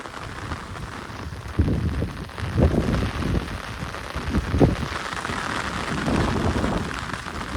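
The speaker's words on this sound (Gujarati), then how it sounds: "વરસાદ એ વધતો જાય છે." Rain in a village near Botad, Gujarat, falls as a steady, dense hiss that swells louder over time, with scattered heavier drops striking nearby surfaces.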